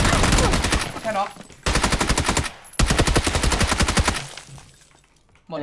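Automatic gunfire in PUBG, rapid sustained bursts of shots in three long strings separated by brief pauses, loud and close, with a faint voice near the end.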